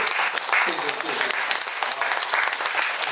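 An audience at a meeting applauds guests being introduced, with loud, close hand claps mixed with someone speaking over them through the whole stretch.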